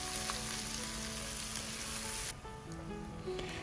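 Lemongrass, chili and garlic sizzle steadily in hot oil while being sautéed for braised eel, a dense close frying hiss that continues alone throughout.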